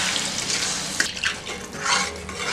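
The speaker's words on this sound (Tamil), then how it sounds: "இப்போ இந்த கிரேவிக்கு தேவையான அளவுக்கு தண்ணி கொஞ்சம் ஊற்றிக்கலாம்." Water is poured into a pan of broccoli and paneer gravy, a steady splashing pour with faint stirring and pan clinks close by.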